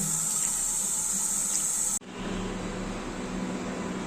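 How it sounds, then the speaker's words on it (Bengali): Running water rinses soil from the roots of freshly collected weeds, a steady close hiss of flowing tap water that cuts off abruptly and resumes with a lower, broader wash. "এগুলো ধুয়ে শেকড় থেকে মাটিগুলোকে আমার সরাতে হবে"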